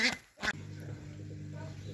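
A duck gives a couple of short, nasal quacks at the start, then a low steady hum fills the rest.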